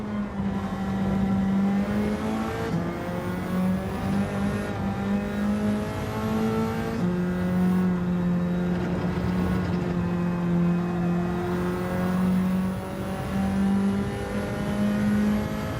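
Race car engines in Gran Turismo 7 during an online lobby race, a steady loud drone with harmonic whine that shifts pitch as the car accelerates and changes gear, continuous throughout with no talk.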